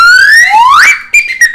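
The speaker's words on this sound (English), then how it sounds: "this is called a holy slide whistle" A slide whistle plays two rising glides, the second sweeping up steeply, then gives a few short, separate toots at a steady pitch; the sound is loud and close with no talk.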